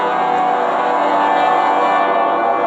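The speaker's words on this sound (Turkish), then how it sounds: "Araba kornası." A car horn from the Sprunki Infected mod video game blares as one loud, steady, sustained tone lasting nearly three seconds, with no talk over it.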